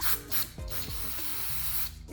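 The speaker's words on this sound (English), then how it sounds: "use your mass airflow sensor spray" Mass airflow sensor cleaner sprayed into the intake of a 2022-2025 Honda Civic 1.5L, several sharp close hissing bursts from the aerosol can with brief gaps between them, loud and without speech.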